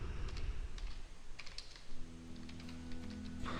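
A computer keyboard typed on for data entry of city names and pin codes, rapid close key clicks in uneven bursts with a low hum entering partway through and no voice.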